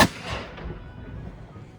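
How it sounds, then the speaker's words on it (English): A historic cannon fires in a demonstration on Mackinac Island, one sharp loud blast at the start that rumbles and echoes away outdoors. "And that's the cannon firing demonstration."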